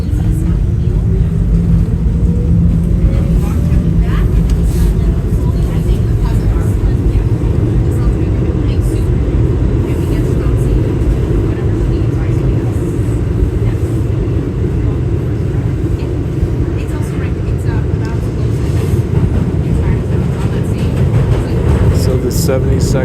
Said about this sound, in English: See a Brooklyn-bound Q train. Very old equipment.